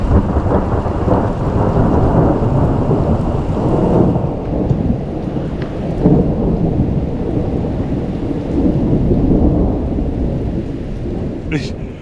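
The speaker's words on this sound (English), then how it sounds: "A brilliant thunderstorm." A heavy thunderstorm in Antalya, Turkey, with loud continuous rain and deep rolling thunder rumbling throughout, heard close and filling the scene without any talking.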